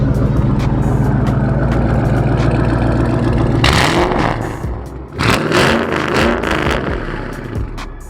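A 2010 Mustang GT engine revs loudly through its exhaust, with a steady idle rumble and then sharp throttle blips and clattering bursts, close and strong.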